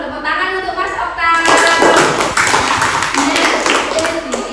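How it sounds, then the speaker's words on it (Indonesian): Classroom of students clapping for a classmate, a short burst of dense, close applause that starts after a moment of talk and continues steadily, with voices mixed in. "Tepuk tangan untuk Mas Okta."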